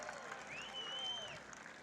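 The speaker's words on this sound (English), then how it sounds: "How about a big round of applause for Jeremy Gussner out of Tampa, Florida?" Crowd applause in the grandstands at New Smyrna Speedway during the World Series of Asphalt, a steady, moderately faint wash of clapping under a whistle-like tone, with an announcer's voice running over it.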